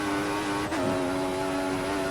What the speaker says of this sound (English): So much wheel spin.